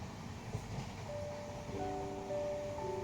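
A long-distance passenger train from Kerala slows on its approach to Hazrat Nizamuddin station in Delhi: a steady, close rolling rumble with thin, sustained squealing tones that join in partway through and build. No one speaks.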